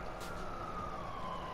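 In Watch Dogs 2, a police car siren wails faintly in the distance, a thin gliding tone over a steady rumble of traffic and game ambience.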